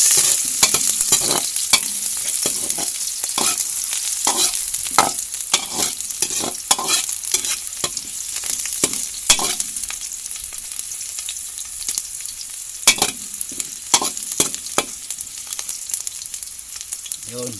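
Shrimp sautéing in a pan with garlic and onion, a steady loud sizzle broken by repeated scraping stirs and clatters of a utensil, alone with no talk.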